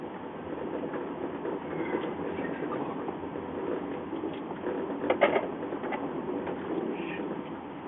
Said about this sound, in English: the train creaked and swayed incessantly